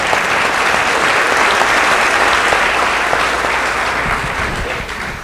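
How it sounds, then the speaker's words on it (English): Audience applause at an Ojai Chautauqua gathering, a full sustained round of clapping from the crowd that starts to taper off toward the end. "give yourselves a much heartier and deserved round of applause"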